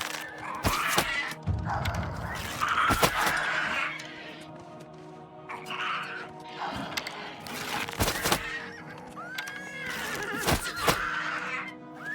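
A horse whinnies a few times among scattered thuds, clanks and cracks during a goblin battle in Elder Scrolls IV: Oblivion Remastered, fairly quiet and close, with no talking.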